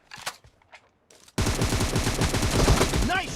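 Gunfire in a shooting video game: a few soft clicks and a brief voice, then a sudden loud burst of rapid automatic fire that rattles on steadily, with a tonal chirp near the end.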